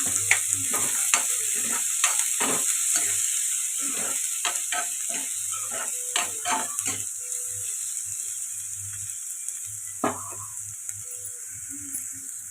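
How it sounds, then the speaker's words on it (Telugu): Chopped onions and green chilies fry in a pan for a dhaba-style matar paneer masala, with a steady background sizzle and a string of close spatula scrapes and taps as they are stirred. No one speaks. "ఉల్లిపాయలు బాగా ఫ్రై అవ్వాలి ఉల్లిపాయలు ఇలా ఫ్రై అవుతుంది కదండి"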